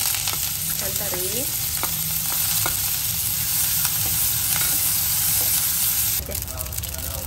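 Chili, shallots and garlic sizzle steadily in a hot pan, a continuous bright frying hiss with occasional stirring scrapes, and a few faint voices in the background.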